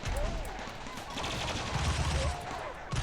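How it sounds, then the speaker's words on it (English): Defensive turrets in the video game Rimworld keep up a steady rattle of gunfire, a dense continuous fusillade with pitched electronic whistles over it, fairly loud throughout. "So the turrets are doing alright there."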